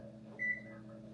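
A kitchen oven gives a single short electronic beep as it is set to preheat to 350 degrees, clear but modest over a low steady background hum.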